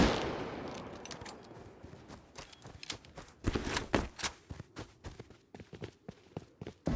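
Gunfire in the survival video game Rust, a dense run of sharp irregular shots and bursts, close and fairly loud, with no voices over it.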